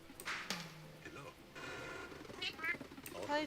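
A cat in the game FATE gives a couple of short meows, close and clear, interleaved with a voice talking.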